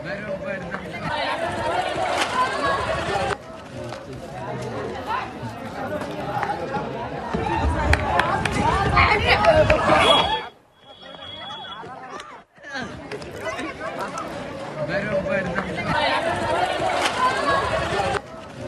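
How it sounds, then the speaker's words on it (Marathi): A crowd of youths gathers outside school exam centres in Yeola during tenth-grade board exams, producing a dense, loud babble of many voices and movement, briefly dropping out in the middle before the hubbub resumes. "कॉपी पुरवणाऱ्या टवाळखोरांची परीक्षा केंद्रांबाहेर गर्दी पाहायला मिळाली"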